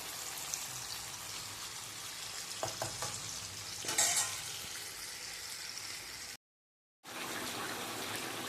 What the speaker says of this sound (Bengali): এবার আমি চিকেনগুলোকে দিয়ে দিয়েছি, দিয়ে একটু ভালো করে নাড়িয়ে চাড়িয়ে নেব।